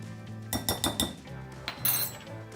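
A fork clinks and scrapes against a bowl while mixing cinnamon into apple pie filling, a quick series of close metallic taps followed by softer stirring scrapes.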